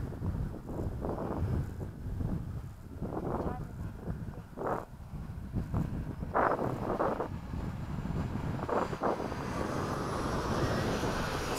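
An E-flite 80mm F/A-18D electric ducted fan RC jet with a 2100kv fan flies overhead, its airy whooshing whine building steadily as it accelerates, mixed with gusty wind noise on the microphone.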